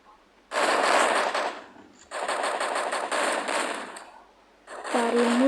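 Rapid automatic gunfire from a Roblox shooting game comes in two long, loud bursts separated by short gaps, with a third burst starting at the end alongside a brief voice.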